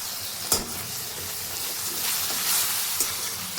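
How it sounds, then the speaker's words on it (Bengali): A paste masala of onion, tomato and chopped chili with salt and turmeric sautés in a pan, sizzling in a steady, close hiss broken by a few clattering stirs. "মশলাটাকে এখন আমি ভালো মতন কষিয়ে নেব।"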